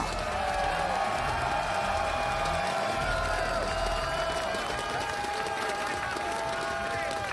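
A packed arena crowd at a StarCraft esports final in Katowice roars and cheers in a steady, dense wash of noise, with a commentator's voice running over it throughout.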